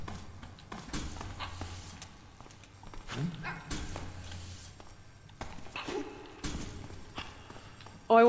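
A dog character in the co-op puzzle game HeartZ: Co-Hope Puzzles barks in a few short bursts amid game sounds and light footstep-like taps, while players talk over it.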